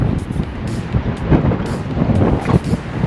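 Strong gusting wind in Saudi Arabia, storm-like and dark, buffeting the microphone with a continuous loud roar and rumbling low gusts throughout, no voices.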